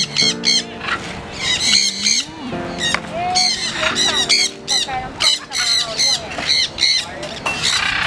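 Birds squawk and caw repeatedly in a rice field, harsh, loud calls coming in rapid bursts close by, with someone talking in between.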